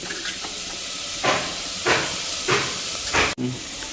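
Mustard seeds hit hot oil in a home kitchen pan for egg biryani, a loud, steady sizzling hiss with several sharper surges and a brief sudden dip near the end, no voices over it.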